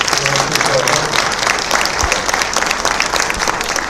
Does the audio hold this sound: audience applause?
yes